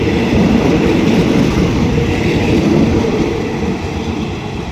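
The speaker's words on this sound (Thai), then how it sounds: "ไปแล้วนะครับขบวนรถเร็วที ่ 142 นะครับ อุบลราชธานีกรุงเทพอภิวัตรครับผม" Rapid train 142 from Ubon Ratchathani to Bangkok pulls out of Sisaket station, a loud, steady rumble of wheels and rail cars close by that eases off slightly toward the end.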